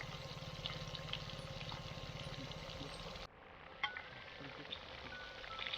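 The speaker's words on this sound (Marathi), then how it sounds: "मस्त मोठा मच्छी फ्राय होतोय बघा." Fish frying in a pan over a wood-fired chulha stove out in a farm field, a steady broadband sizzle running throughout with a faint hum underneath, briefly dropping and then resuming.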